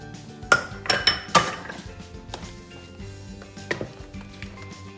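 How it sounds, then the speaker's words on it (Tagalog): Butter, sugar and eggs being mixed in a bowl give a burst of sharp clinks and knocks of a utensil against the bowl, then lighter scattered taps, close and without talk. "paghaluin lang natin itong tatlong ingredients. Itong butter, sugar, at saka eggs."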